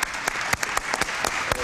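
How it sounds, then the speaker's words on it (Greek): A studio audience at a Greek late-night TV show claps in brief, loud, crisp applause with irregular, rapid hand claps. "Χειροκρότημα στη Μουζουρού μου"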